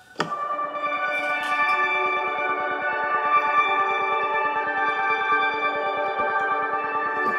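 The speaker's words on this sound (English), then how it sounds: "And then we have the Dreamy Keys pad sound." A Dreamy Keys synth pad on a keyboard holds a lush sustained chord with a soft attack and a gentle pulsing shimmer, steady and close for several seconds with no talking.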